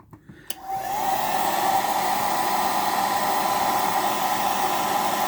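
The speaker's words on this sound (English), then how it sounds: "Try to keep your hairdryer moving." A few soft clicks and handling noises, then a hair dryer switches on and blows in a loud, constant rushing whir to the end.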